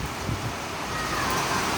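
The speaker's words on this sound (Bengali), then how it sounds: "অনেক জোরে বৃষ্টি পড়তেছে" Heavy rain pours down in a steady, dense, loud wash with no breaks, close by.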